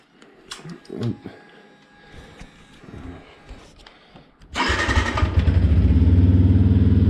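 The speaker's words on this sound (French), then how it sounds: "Voilà le démarrage à froid, donc ça tourne un peu plus haut dans les tours pour qu'on entende un petit peu le bruit, encore d'origine" A Beta RR 125 LC 4T enduro motorcycle from 2021 on its stock exhaust cold-starts after a few seconds of faint clatter, then settles into a loud, steady, slightly raised idle close by.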